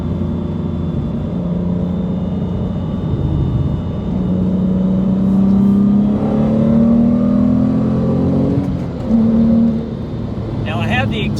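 A 2005 Porsche Boxster fitted with a 4.3-litre R43 engine, exhaust in quiet mode, drones steadily, then its engine note climbs as it accelerates through a gear, heard from inside the car while someone talks.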